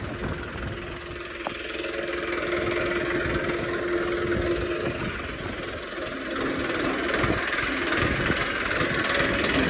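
A tractor engine idling close by, a steady low mechanical rumble that holds an even, continuous drone throughout with no pauses.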